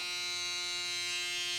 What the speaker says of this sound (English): I'm actually going to use a foil shaver.